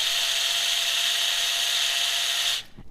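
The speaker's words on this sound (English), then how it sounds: "this grinder is a cool grinder. It doesn't heat up, so you don't have to worry about the seeds and nuts getting hot." An electric grinder whirs steadily as it grinds nuts, seeds and protein powder, a bright continuous motor whine that holds for over two seconds before abruptly cutting off, close and alone.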